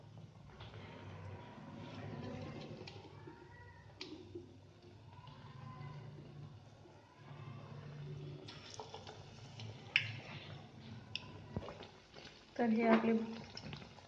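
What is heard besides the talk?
potato slices in gram flour batter frying in oil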